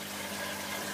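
Water percolating up through netting inside an aquaponics drum filter, a steady close gurgling wash over a faint low hum, unbroken and without talk.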